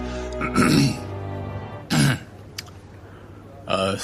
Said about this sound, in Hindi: सभी का ध्यान अपनी ओर आकर्षित करने के लिए जोर से खांसी की